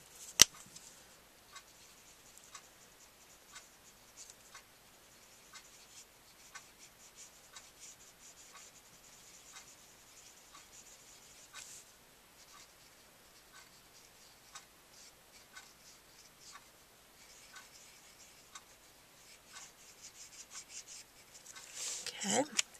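Copic alcohol marker strokes on paper, a steady series of soft scratchy taps and rubs repeating through the whole stretch, quiet and close, growing busier toward the end.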